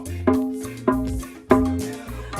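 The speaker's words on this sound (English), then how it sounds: "anything that has a very thin fiber or something on top, that when you hit it, it sounds like this" A membrane drum with a synthetic skin is struck three times at a slow, uneven pace. Each hit is close and gives a sharp attack with a resonant, pitched ring that fades before the next.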